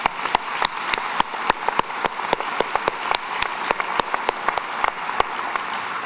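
An audience at a school graduation applauds steadily, many hands clapping in a dense, even patter with sharper individual claps standing out, sustained throughout at moderate loudness.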